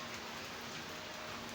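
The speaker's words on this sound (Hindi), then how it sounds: "बारिश बहुत ज़्यादा हो रही है।" Heavy stormy rain pours down steadily outdoors, a dense continuous hiss and patter of drops on surfaces, loud and unbroken throughout.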